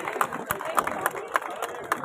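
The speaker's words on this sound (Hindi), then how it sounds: "तालियां हो जाए," Scattered hand claps from a small crowd at a sports medal ceremony, uneven and moderately loud, with murmuring voices underneath.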